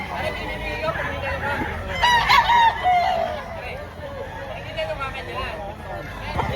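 Chickens, including a crowing rooster and clucking hens, sound at a poultry market in Lipa, Batangas; a loud crow rises mid-clip over constant bird chatter while people talk nearby.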